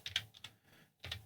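A terminal command typed on a computer keyboard: a short, close burst of quick key clicks, a brief pause, then a few more taps, with no talking.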